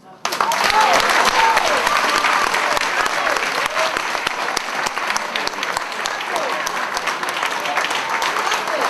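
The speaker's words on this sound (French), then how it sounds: "on l'applaudit vraiment chaleureusement" Warm, sustained applause from an audience at the UNESCO palace honouring a Senegalese poet after a recitation, a full, dense clapping that starts abruptly and carries on steadily, with faint voices underneath.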